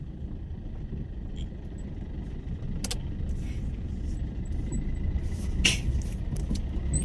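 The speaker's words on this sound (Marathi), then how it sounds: "पहा आता पुढून गाडी आलेली" A car approaches along a dark road under construction with its streetlights switched off, a steady low engine and tyre rumble that swells slightly as it nears, with a few faint clinks.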